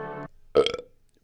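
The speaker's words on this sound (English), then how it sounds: "Burp." A single short burp rings out close and clear after a brief stretch of low, voiced sound, then fades fast into quiet.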